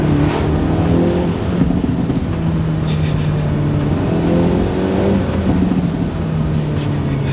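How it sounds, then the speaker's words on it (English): A Hyundai Elantra N four-cylinder exhaust with its factory burble tune, a loud steady engine drone from inside the car with faint crackles, while someone talks over it. "Here's that factory burble tune I was telling you about."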